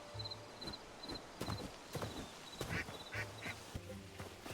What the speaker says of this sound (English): That's another duck.